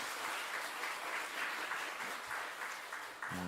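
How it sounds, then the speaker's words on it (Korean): Applause from a church congregation for the choir leader, conductor, accompanist and choir members, a steady mass of clapping filling the room before stopping abruptly near the end. "큰 격려의 박수 한번 하겠습니다"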